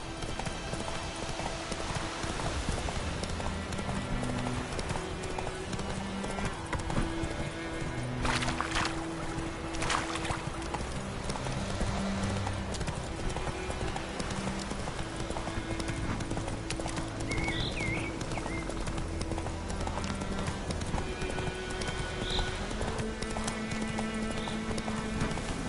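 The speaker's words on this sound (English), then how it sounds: "Whoa there, Roach." Horse hooves clip-clop steadily in The Witcher 3 video game, a continuous rhythmic gait running through the whole stretch at moderate volume, with faint game ambience behind and a brief neigh possible.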